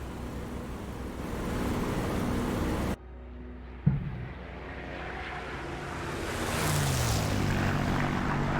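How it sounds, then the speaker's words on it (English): A Supermarine Spitfire makes a flyby in the DCS World flight simulator, a steady propeller drone that cuts briefly, then swells again into a rising engine roar as the aircraft sweeps past. "I'm going to do a flyby"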